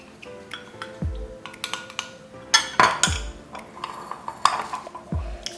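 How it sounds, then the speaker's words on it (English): A spoon stirs herbal cold-remedy tea in a bowl, giving a few light clinks and scrapes against the sides at an uneven pace, close and fairly quiet. "I'm gonna stir it up."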